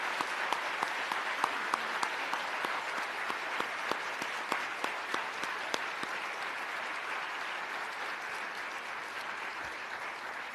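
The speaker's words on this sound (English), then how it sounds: "Please join me again with a round of applause." Sustained applause from a large audience at a women's awards ceremony, steady dense clapping with a few sharper claps standing out, continuing evenly throughout with no talk.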